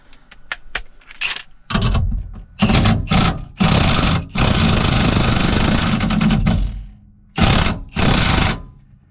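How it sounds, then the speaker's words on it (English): Impact wrench driving a chrome socket while separating a Mustang's differential from the upper control arm: loud bursts of rattling hammering, a few short rips early and then longer sustained runs, alone with no talk. "now we can use the impact"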